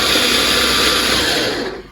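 A 5-in-1 chopper blender's motor runs loud and steady with a high whine, then begins to wind down near the end, heard alone.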